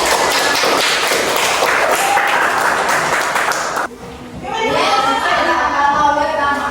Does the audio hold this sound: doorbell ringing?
no